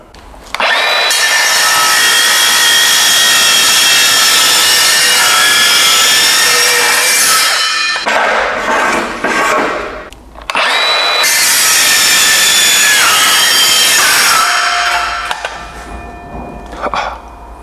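A Milwaukee cordless circular saw whines loudly through metal in two long dry cuts, each a harsh, high grinding screech lasting several seconds, with a short pause between.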